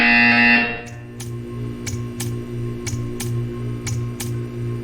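A loud, harsh electronic buzzer in Portal 2 sounds for about half a second, then cuts off, leaving a steady mechanical ticking and low hum behind.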